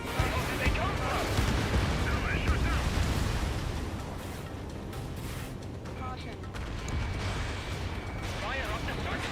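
Enemy anti-aircraft fire in the jet combat game Ace Combat 7, a dense, rumbling barrage of booms and bursts with mechanical clatter that keeps going throughout, while radio voices talk over it.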